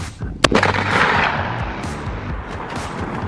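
A sharp, loud rifle shot cracks out during a hunt, followed by a rumbling echo that rolls on for several seconds under steady outdoor ambience.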